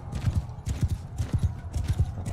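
Horse hooves clip-clop steadily at a gallop in the video game Mount & Blade 2 Bannerlord, loud and rhythmic, with a faint whinny and battle noise behind.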